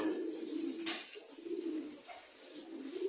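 Pigeon cooing from birds kept in a loft, a soft low repeated coo running steadily through the clip with no talk, faint and moderately close.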